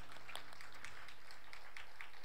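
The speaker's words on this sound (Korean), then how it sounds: "우리 가운데 임하실 주님께 영광의 박수 올립시다" Church congregation at a Wednesday evening worship service applauding together, a soft, steady patter of many hands clapping at a distance.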